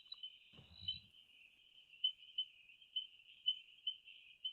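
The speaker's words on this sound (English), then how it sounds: "It's the common reed frog, probably the most common frog in Africa." A common reed frog, an African species, gives a steady, high-pitched trilling chirp with a regular pulsing rhythm that holds for the whole stretch. A brief low thump sounds early on.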